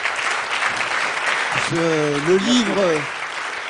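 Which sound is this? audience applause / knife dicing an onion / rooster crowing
audience applause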